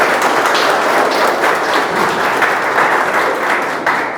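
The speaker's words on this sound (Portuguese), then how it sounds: "Uma salva de palmas pro companheiro aí." Steady applause from an audience at a construction safety training talk right after a closing prayer, a dense, even patter of many hands clapping for about four seconds, close and fairly loud, with no voices over it.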